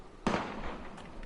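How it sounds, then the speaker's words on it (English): A single sharp gunshot in the war video game Valkyria Chronicles, a loud close crack followed by a short decaying echo. "Gunfire!"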